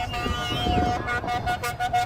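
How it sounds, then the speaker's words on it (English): Vehicles and trucks honk briefly as they pass a roadside gathering in Glenrio, New Mexico, a couple of short horn toots over background crowd noise and voices. "Many vehicles, trucks honking as they go by."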